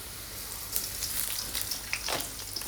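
Black cumin seeds sizzle in hot oil in a pan while tengra fish kalia with potatoes is cooked. A faint, steady frying hiss runs throughout, broken by a few sharper crackles and pops.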